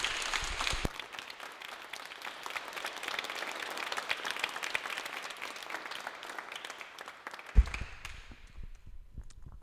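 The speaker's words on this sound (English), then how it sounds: "can we just give an enormous final round of applause to this panel?" Audience applause for a panel at the close of a day-two retrofit event in Balsall Heath, Birmingham: sustained, dense clapping from a sizeable crowd that swells, holds steady and fades out near the end.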